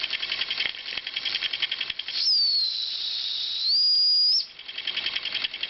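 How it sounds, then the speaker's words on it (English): A model steam engine with a single cylinder lets off its small steam whistle, a clear high shrill tone held for about two seconds, dipping briefly mid-blast, set against rapid rattling chuffs and hissing steam close by. "And that's the whistle for you."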